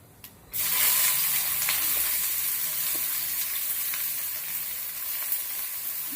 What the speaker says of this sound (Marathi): त्यामध्ये आता जिरे टाकलेले आहेत आता आपण या त्यामध्ये कांदा टाकूया